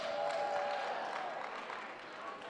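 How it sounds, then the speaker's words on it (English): A crowd of attendees cheers and applauds for mascots at a community college student leadership summit in New Jersey; steady broadband clapping and cheering fills the clip, with a brief whistle early on, gradually easing. "Can we do one more cheer for the mascots?"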